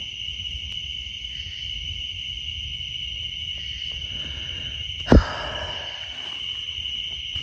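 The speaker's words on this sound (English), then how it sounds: "I hear crickets and stuff" Steady high insect chirring of crickets fills a quiet forest trail at night, with a single sharp metallic knock partway through.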